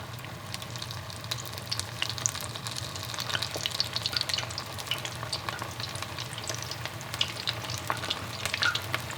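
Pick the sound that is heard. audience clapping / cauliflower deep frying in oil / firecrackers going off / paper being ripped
cauliflower deep frying in oil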